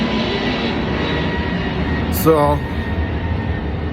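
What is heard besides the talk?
airplane flying overhead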